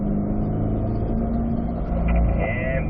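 A car in third gear circling a cone course on a track, its engine droning steadily at close range with a low, even hum and a slight rise near the end.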